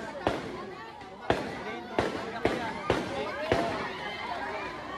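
Fireworks bursting outdoors in a series of about five sharp booms spaced roughly a second apart, each trailing into crackle, with excited people chattering and exclaiming throughout.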